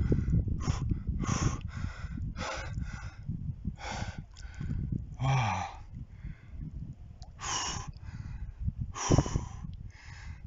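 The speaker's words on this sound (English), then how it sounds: "Deep, deep, deep breath." Deep, heavy breaths taken by a motorcyclist touring Peru from Cusco to Huaraz, repeated loud close inhales and exhales with gasping, wheezy edges over a steady low rumble.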